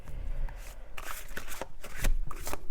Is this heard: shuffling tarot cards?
yes